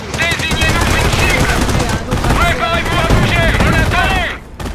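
Sustained machine gun fire from the Company of Heroes war game, fast rattling bursts with overlapping gunshots, loud and close, running almost continuously before cutting off near the end.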